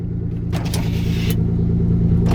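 Nissan Z car engine running after a start, a steady loud low rumble with a couple of brief higher rev bursts, close up with no talking.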